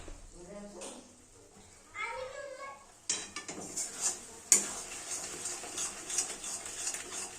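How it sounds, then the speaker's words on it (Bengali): Turmeric and spices stirred and fried in a pan for a chui jhal chicken curry, with repeated scraping and clinking of a spoon against the pot under a steady sizzle, close and moderately loud, with brief talk early on. "মশলাটা খুব সুন্দরভাবে নাড়াচাড়া করতে থাকবো এবং খুব ভালোভাবে এটা কষতে থাকবো"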